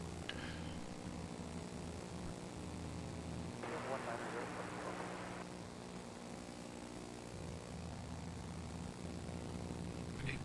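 A steady, distant roar of airplanes taking off at San Francisco airport rumbles continuously under a broad hiss, with a brief brighter swell midway.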